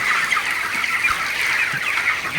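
A dense flock of broiler chickens clucks and squawks continuously as they are chased, a busy, agitated chorus filling the whole stretch without any talking.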